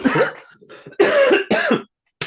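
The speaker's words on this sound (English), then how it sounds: "The cough has attacked." Several harsh, loud coughs burst out in quick succession, close to the microphone, each raspy and throaty, separated by brief pauses.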